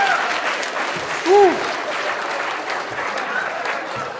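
Crowd applause at a live event, a steady wash of clapping throughout with a brief voice rising over it partway through.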